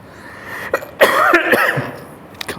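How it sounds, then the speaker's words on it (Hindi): A person coughs indoors, several sharp, close bursts clustered in the middle of a quiet room with an air conditioner running, followed by a small catch near the end. "खांसी हो गई।"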